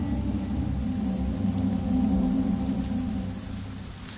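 Steady rain pours down with a low, rolling rumble underneath that suggests distant thunder, a dense continuous wash with no voices.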